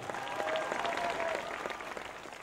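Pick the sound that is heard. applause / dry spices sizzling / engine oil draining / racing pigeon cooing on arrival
applause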